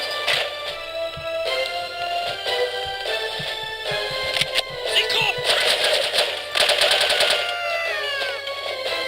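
Gunfire in the spy shooter No One Lives Forever rattles in rapid repeated bursts over a bright, busy layer of game music and effects.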